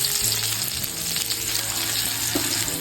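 Sankara fish sizzles steadily in a pan of oil over a lowered flame, a close, continuous crackle of frying that runs alone without any talk.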